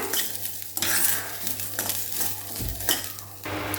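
Rice grains are dry-roasted for kheer in a pan and stirred with a spatula, producing repeated scraping strokes and a light rustling rattle, with a couple of louder scrapes along the way.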